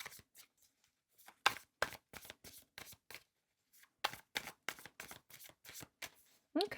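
Tarot cards shuffled by hand during a reading, a series of crisp riffling bursts in quick succession with short pauses between groups, close and clear with no talking.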